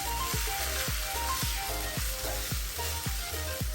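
Chicken cutlet filling sizzling in a pan while being mixed, a constant loud frying hiss broken by regular scraping strokes of a spoon roughly every half second, up close and without voices.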